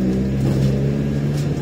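An Iveco Daily 35-8 van with a custom-fabricated exhaust drives in low gear, its engine giving a close, steady, deep droning rumble without pauses.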